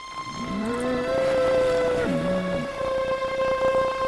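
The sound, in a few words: cattle mooing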